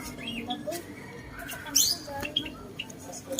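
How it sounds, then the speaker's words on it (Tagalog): Lovebird parrot squawking and chirping at a park and wildlife centre, short sharp calls scattered among other bird sounds, with people talking nearby. "May ibon na Darna, ito. Lovebird."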